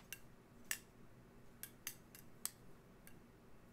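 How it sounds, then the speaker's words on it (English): An OSP Matrix titanium balisong being flipped gives a handful of sharp, light metallic clicks and clangs at irregular intervals, close by but fairly quiet, with no talking. "It's like a titanium clang."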